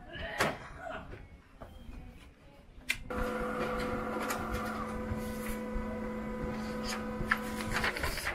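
A Canon iR2224 A3 photocopy machine starts printing with a clunk, then runs with a steady mechanical whir and a sustained tonal hum, fairly close and continuous, with no talking.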